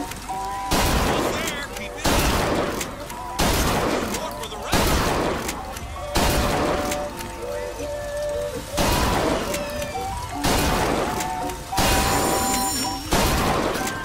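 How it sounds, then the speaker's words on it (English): Repeated shotgun blasts in Bioshock Infinite, about eight evenly spaced booming shots roughly every one to one and a half seconds, loud and sharp, each with a short decaying tail over steady game ambience, with speech in between. "It's good practice with a shotgun though"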